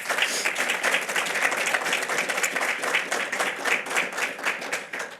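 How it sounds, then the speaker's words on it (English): An audience at a press conference announcing STEM talent grant recipients bursts into sustained applause, a dense, steady wash of many hands clapping for several seconds with no voices over it. "Let's have a round of applause for the Wistar and Pathway team."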